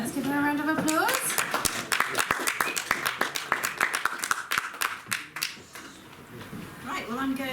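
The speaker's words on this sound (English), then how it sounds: "let's give her a round of applause" An audience at a poetry reading gives a round of applause, a quick patter of claps that fades out over several seconds, with speech just before and after it.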